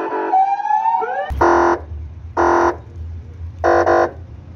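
Illegally installed siren on a private car: a rising electronic wail gives way to three loud, harsh buzzing blasts with pauses between them, close and over a low engine rumble.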